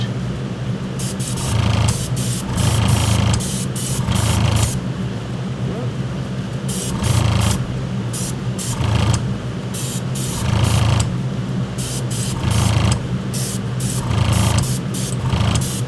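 Spray paint is misted in a light dust coat onto resin parts of a Blade Runner blaster kit. Repeated hissing bursts of one to two seconds each come from close by, separated by brief pauses.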